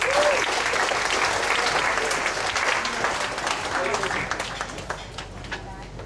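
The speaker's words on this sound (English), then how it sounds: "Round of applause" Audience applause at an evening poetry slam at a writers' festival venue, a dense, steady wash of many hands clapping that carries on throughout and eases slightly toward the end, with crowd murmur mixed in.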